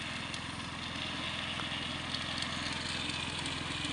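A riding lawn mower engine runs at a steady idle, its low, even chugging pulse continuing at moderate distance with faint background noise.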